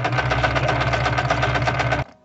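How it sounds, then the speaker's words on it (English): A sewing machine that sounds faulty runs steadily for about two seconds with a fast, rough mechanical chatter, then stops abruptly. No one talks. "The sewing machine still sounds like crap."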